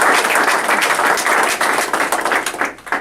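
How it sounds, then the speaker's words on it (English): Audience applauding at a county Democrats' gathering in a campaign headquarters, a dense burst of many hands clapping that fills the whole stretch, loud and close, then thins slightly toward the end. "let's give him a round of applause for it"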